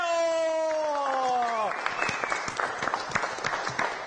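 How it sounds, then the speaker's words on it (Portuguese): After a short sustained musical tone, an audience at an event bursts into steady, dense applause that continues to the end. "Só peço uma salva de palmas, bem forte, a essas feras."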